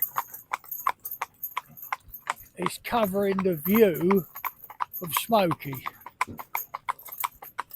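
Hooves of a horse pulling a carriage in harness clip-clop in a steady, even rhythm throughout, with harness jingling and someone talking over them.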